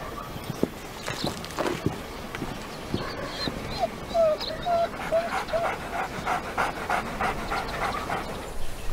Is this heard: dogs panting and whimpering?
yes